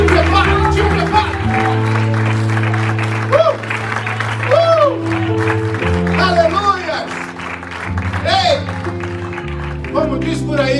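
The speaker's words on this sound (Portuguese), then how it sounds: "Aplauda o Senhor Jesus" A church congregation at an Easter service claps along over loud music with sustained keyboard tones and singing, the applause blending into the steady worship sound throughout.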